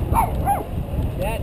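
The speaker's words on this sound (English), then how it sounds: "What a yappy dog, huh?" A small dog yaps in a few quick, high yips close by, over steady outdoor background noise and some nearby voices.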